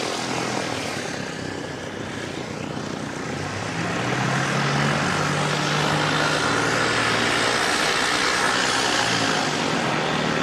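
An ATR turboprop airliner after a test flight at a wet Christchurch Airport, its propeller drone steady and fairly loud, holding a continuous low hum with broadband roar for the whole stretch, no voices over it.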